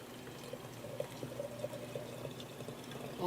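Boiling water pours steadily for coffee brewing, a continuous soft liquid stream with faint gurgles, close and moderately quiet with no voices.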